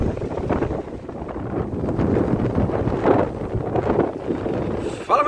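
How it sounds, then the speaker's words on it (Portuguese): Strong gusty wind at Itanhaém beach buffets the microphone with a loud, rumbling, fluctuating roar that rises and falls in gusts throughout. "Meu Deus do céu, olha a ventania, meus amigos."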